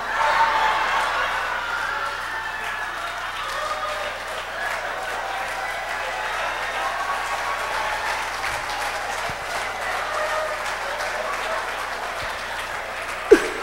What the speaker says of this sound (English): Let me get another round of applause for John Agitation all the way from Trinidad and Tobago